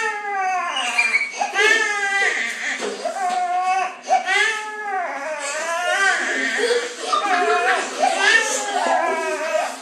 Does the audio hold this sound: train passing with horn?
no